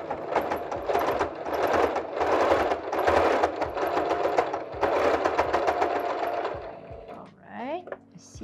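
Sewing machine running straight stitches on a batik fabric face mask, close and loud in several bursts of rapid mechanical chatter with short pauses, then stopping.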